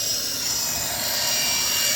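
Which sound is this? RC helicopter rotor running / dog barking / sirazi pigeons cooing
RC helicopter rotor running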